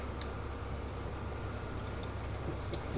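Water trickles and pours out of a small crack in a plastic bag holding redfish, a soft, steady, faint liquid flow with no talk over it.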